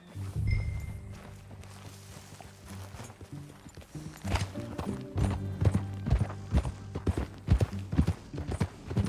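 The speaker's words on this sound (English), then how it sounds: "Okay, Missy. Follow me. Let's ride." Horse hooves clip-clop in a steady walking rhythm in the video game Red Dead Redemption 2, close and distinct, over a low droning music bed, growing busier toward the end.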